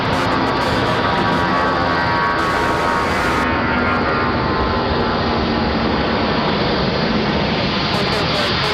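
Delta airliner departing Raleigh-Durham airport, a loud broad jet roar swelling and holding steady at close range, continuous with no talk.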